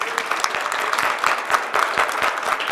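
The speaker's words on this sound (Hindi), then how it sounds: "बजाओ बजाओ ताली अच्छी तरह।" An audience claps steadily through a devotional Mangal Aarti discourse gathering in Mehsana, a dense, continuous patter of many hands at close range with no voices over it.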